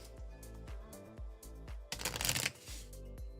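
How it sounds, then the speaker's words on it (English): Enemy cards for the Veilwraith board game being shuffled by hand, a series of rapid riffling bursts with a dense, louder flurry in the middle, close and clear with no talking. "We're gonna take all of our enemies, shuffle them up."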